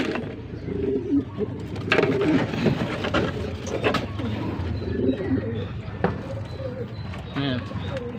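Pigeons coo repeatedly nearby with soft flutters and rustling during training, while a person talks over them in Filipino.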